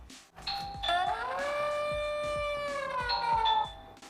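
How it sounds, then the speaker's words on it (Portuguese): A video doorbell's electronic chime rings, a bright two-tone ding-dong sounding clearly and steadily for a few seconds with no talking. "Quando alguém toca minha campainha com vídeo"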